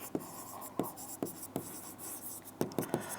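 A word being written by hand, likely pen on paper or board, producing scratchy strokes in uneven bursts with short gaps, close and fairly quiet, no speech.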